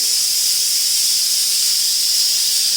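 Loud, steady hiss of steam escaping under pressure, constant and unbroken throughout.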